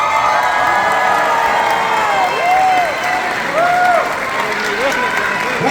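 Crowd at a rally in support of Nayib Bukele by the diaspora in the USA, applauding and cheering loudly and continuously, with whoops and raised voices rising above the clapping.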